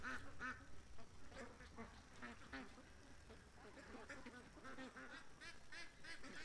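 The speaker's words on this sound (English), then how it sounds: "The ducks are not cooperating." Ducks quack repeatedly outdoors, with steady, overlapping nasal calls from a small group at moderate distance and constant background noise throughout.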